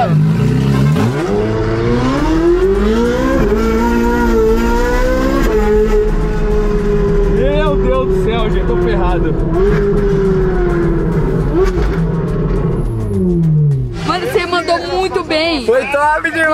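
A Ferrari and an Audi RS4 in a street race rev hard and accelerate, with loud rising engine notes through several gear changes, then a sharp burst of revving near the end.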